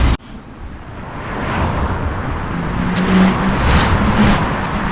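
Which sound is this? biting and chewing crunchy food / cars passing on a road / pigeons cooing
cars passing on a road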